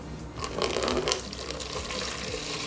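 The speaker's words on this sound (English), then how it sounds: "So let's pour some vinegar in there." Vinegar is poured from a bottle into a milk carton, making a steady, close splashing and gurgling stream that keeps going for a few seconds without pause.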